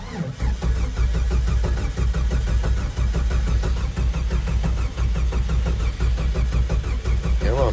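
A 1989 Jeep Wrangler with a new distributor is cranked on a jump pack. The starter churns loudly and rhythmically without pause while the engine tries to fire.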